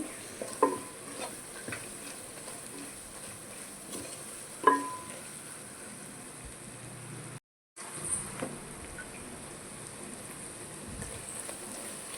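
Gongura boti fries in plenty of oil in a steady, quiet sizzle, broken by a couple of sharp spluttering pops and faint stirring scrapes.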